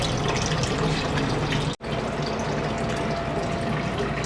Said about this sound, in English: I just was watching the water flow and I had a big release of water here.